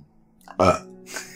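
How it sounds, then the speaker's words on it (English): A person lets out one loud, close, throaty burp in an otherwise quiet room, followed by a fainter breathy sound. "And I burped."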